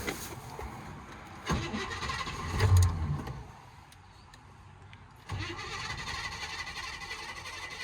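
A 1957 Chevy Bel Air, freshly fitted with new spark plugs and a new battery after more than 15 years unstarted, cranks and tries to fire, with a brief surge then a steady rough rumble continuing close by.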